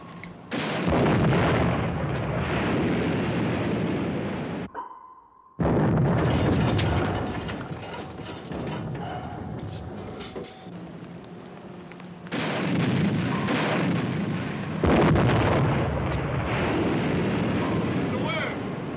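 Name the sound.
naval gunfire explosions in 1957 war film The Enemy Below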